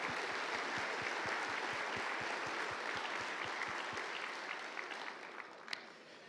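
Audience applause at an awards ceremony for silver medal winners in a miniature painting competition, a steady wash of many hands clapping with a regular rhythmic beat running through it, sustained throughout and easing slightly near the end.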